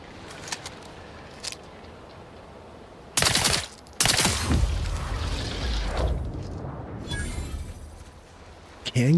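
Loud bursts of gunfire and booming blasts from the video game The Outer Worlds 2 break out, separated by quieter stretches of rumbling ambience and a few sharp clicks.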